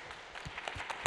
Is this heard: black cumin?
no